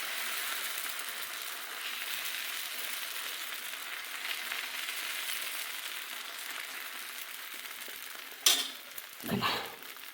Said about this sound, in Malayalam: ദോശ ഒഴിച്ച് കൊടുത്തു.